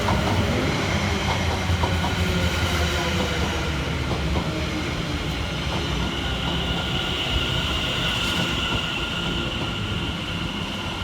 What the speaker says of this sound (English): Arriving next into the station will be 710-121 and 710-125, working the 1348 London Overground service